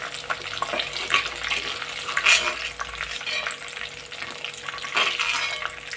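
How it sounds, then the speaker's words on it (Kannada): Chilli chicken pieces frying in hot oil, a steady sizzle with occasional stirring scrapes and splashy bursts, close and fairly quiet. "ಈ ರೀತಿ ಕೆಂಪು ಬರೋವರೆಗೆ ಎಲ್ಲ ಫ್ರೈ ಮಾಡ್ಕೋಬೇಕು"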